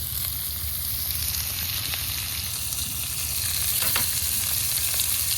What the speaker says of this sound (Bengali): সবজিটা ভালো করে ভেজে নেব